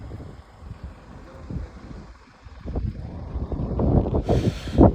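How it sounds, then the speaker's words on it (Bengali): Strong wind gusts up a misty mountain road near Sonmarg in Kashmir. It buffets the microphone in rough, uneven bursts that build louder toward the end. "উফ কি হাওয়া বাবা, মারাত্মক হাওয়া দিচ্ছে, প্রচুর হাওয়া।"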